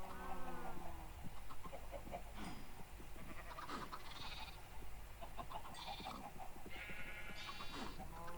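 Sheep bleating on a Minecraft farm, several bleats scattered across a busy mix of other farm animal calls including chickens, fairly loud and continuous with no talking.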